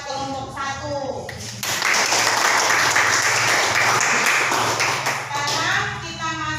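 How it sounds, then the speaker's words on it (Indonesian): A classroom group claps for the first presenting group. The applause starts after a teacher speaks, is a sustained, moderately loud patter of many hands for about four seconds, and fades as speaking resumes. "Dengan aplaus buat kelompok 1."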